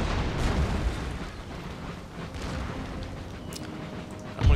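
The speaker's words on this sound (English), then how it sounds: "Cannons are firing." Cannons fire across a battlefield in the strategy game Empire: Total War, with dense, rumbling booms and crackling blasts at a distance, ending with a louder close thump.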